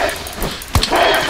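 A dog in the H1Z1 video game gives a brief sharp yelp or whimper over a low, steady game background, with a second smaller sound close after it.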